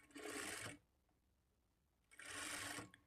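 A sewing machine stitches blouse lining cloth with a half-inch margin in two steady whirring bursts, separated by a pause of near silence, close and moderately loud.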